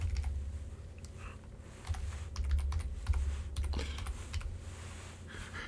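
Computer keyboard typing: irregular bursts of quick key clicks, close and fairly quiet, over a low background hum, with no talking.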